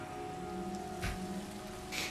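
Rain in the game Sky: Children of the Light, a steady soft patter under a low hum, with a couple of brief louder splashes standing out.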